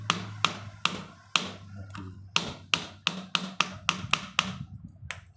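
Sharp metallic taps ring out as a drive shaft is knocked into place on a Proton Savvy AMT, about a dozen close blows that start spaced and then quicken into a steady rhythm over a low hum.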